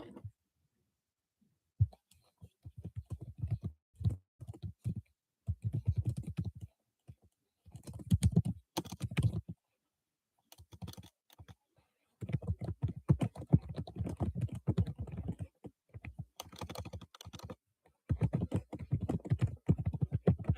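Typing on a computer keyboard, close and quiet, in irregular bursts of rapid key clicks broken by short pauses.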